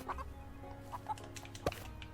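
Chickens in the video game Swords 'n Magic and Stuff cluck in a few short, soft bursts, ending with a sharper squawk.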